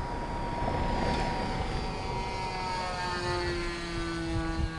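An AT-6 trainer aircraft takes off at a small airfield's holiday flying event. Its engine drones steadily at a moderate distance, and the pitch shifts as it climbs away.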